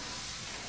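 A steady, airy hiss of a steam locomotive's steam brake releasing in a train-driving video game, constant and fairly faint throughout with no other sounds.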